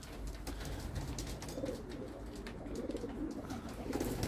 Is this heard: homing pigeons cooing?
yes